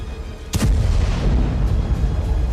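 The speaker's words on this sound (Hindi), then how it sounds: "गाजा के करीब तैनात आर्टिलरी से भी प्रहार जारी है" Artillery fire pounding Gaza, with a single loud, close boom that bursts suddenly and then rolls into a long, rumbling low echo that lingers.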